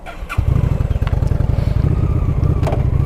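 A Honda Shadow RS motorcycle engine fires up close by after a brief clatter, then settles into a loud, steady, throbbing idle with slight revs and no voices.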